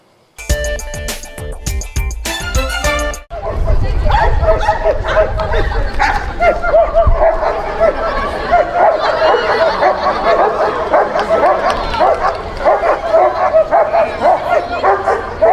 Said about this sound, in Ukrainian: Злочинців цього тижня ловили вінницькі кінологи та їхні собаки на території гімназії номер 2